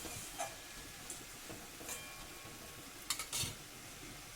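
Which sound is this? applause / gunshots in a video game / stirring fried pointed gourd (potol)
stirring fried pointed gourd (potol)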